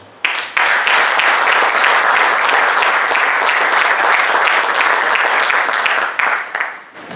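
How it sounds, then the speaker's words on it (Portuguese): At a presentation of a football club's centenary programme in Amarante, the assembled audience bursts into loud, dense applause that starts abruptly, holds steady for several seconds, then tapers and thins toward the end. "acho que merecem uma salva de palmas"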